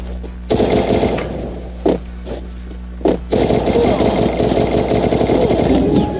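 Rapid automatic gunfire from the game Free Fire, played on PC, rattles continuously in close bursts, broken by brief pauses and single louder shots, with game-like mechanical droning underneath.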